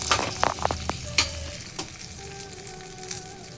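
Tempering with curry leaves and a chilli crackling in hot oil for chutney, a dense sizzle with sharp spits and pops early on, settling into a steady hiss, close and loud with no talking.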